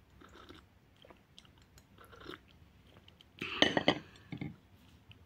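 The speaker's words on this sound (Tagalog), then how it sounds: "Higop muna tayo guys ng kape bago ko tapusin ang video ko." Coffee, a cup of Ali Cafe, sipped at a morning breakfast table, with a short burst of slurping around the middle set among faint clinks of the cup and light mouth sounds, close and fairly quiet.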